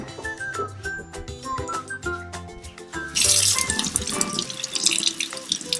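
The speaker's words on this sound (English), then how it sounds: "So we're just gonna take some in our hands and wash our hands to see if they'll still work." Tap water runs into a sink while hands are washed during an Ivory soap experiment for kids, a close splashing gush that starts partway through over a tonal, whistle-like musical background.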